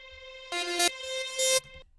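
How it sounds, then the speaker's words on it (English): Two swelling synth notes that fade in and cut off abruptly, giving a backwards, sucked-in feel, each about half a second long. "Here I have then 2 reverses which I created with the synth lead."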